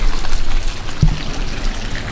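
Water from a small waterfall in Shawnee National Forest trickles and pours steadily onto rock nearby, making a continuous splashing hiss. No one speaks.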